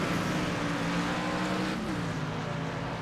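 The number 47 Toyota race car at Mid-Ohio roars past, its loud engine note holding steady then dropping slightly in pitch as it goes by, with no talk over it.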